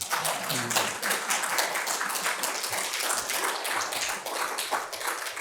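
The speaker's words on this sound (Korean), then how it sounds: "박수 한번 치세요, 이럴 때는." An audience at a policy lecture on Korea's digital history applauds, a dense, steady patter of many hands clapping continuously and fairly loud throughout.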